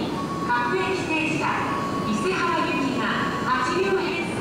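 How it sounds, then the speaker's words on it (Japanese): An Odakyu 2000 series eight-car express train pulls into platform 2 at Sagami-Ono station from a siding, with rising and falling electric motor tones and rolling rumble, close by, as a voice sounds faintly in the background. "相模大野駅の留置線から2番ホームに入線します。"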